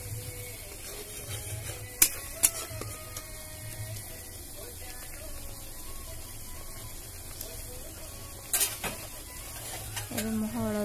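Chilli paste stirred in a frying pan for an Odia mustard fish curry, steady sizzle with a spoon scraping the pan and a few sharp clinks of utensils near the start and end.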